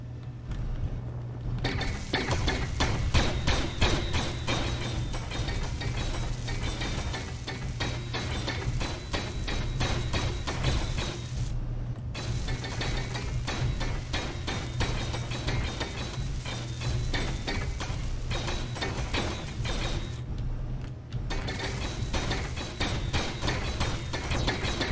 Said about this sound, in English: Make sure I got the welder on, not the grinder.